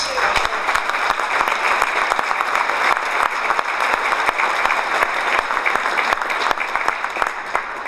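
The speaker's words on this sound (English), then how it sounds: "Can we have a nice hand for Eric Thomas?" An audience applauding at a motorsport hall of fame awards ceremony in 2012, dense and steady clapping from a large crowd that holds throughout, with faint voices beneath it.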